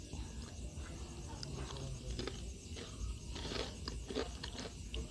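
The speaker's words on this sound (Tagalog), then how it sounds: "Tikman na natin kung malutong siya." Crunchy homemade banana chips being bitten and chewed up close, with a steady patter of crisp crunching and scraping bites at a low level.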